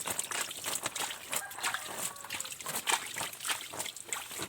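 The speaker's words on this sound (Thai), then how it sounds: "สาดเลยครับสาดให้มันอ้อมบ่อแล้ว" Potassium permanganate water splashes and trickles around the edge of a frog pond, a steady wash of sloshing and dribbling that keeps going without a break.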